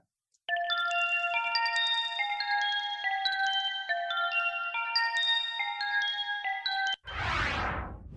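A melodic run of ringing bells plays steadily, followed by a short swooping, reversed-sounding sweep as a reverse pitch-shift effect based on the Eventide H3000 algorithm kicks in at the end.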